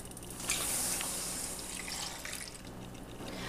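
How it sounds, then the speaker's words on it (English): A cup of water pours into a pan for chilaquiles sauce, a steady close splashing stream with a bright start that runs on evenly for a few seconds without talk. "Then we're going to add a cup of water."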